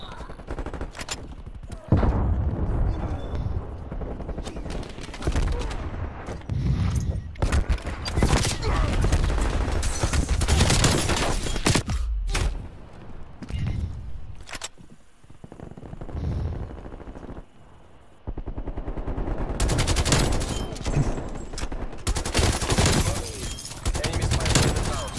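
Bursts of gunfire from a range of different guns in Call of Duty Cold War, loud and dense, coming in repeated clusters with short lulls between them, and a voice talking at times.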